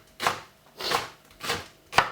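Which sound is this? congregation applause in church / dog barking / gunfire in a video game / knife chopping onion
knife chopping onion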